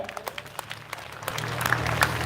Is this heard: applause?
yes